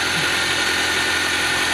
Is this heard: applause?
no